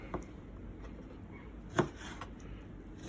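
A knife cuts a venison backstrap into quarters on a board, giving three distinct, fairly close thumping chops spaced a second or more apart over quiet background noise, with no talking.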